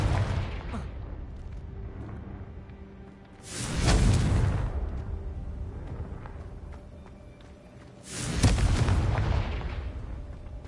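Confringo spell blasts in Hogwarts Legacy: two heavy, booming explosions several seconds apart, each swelling loud then fading into rumbling game ambience.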